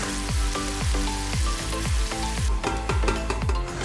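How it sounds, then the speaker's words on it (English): Onion sizzling in a hot pot for Korean chicken soup: steady sizzling and crackling, with a repeating scraping stir and soft clinks throughout, close up and fairly loud. "give it a couple of minutes to sizzle a little so that that onion softens up"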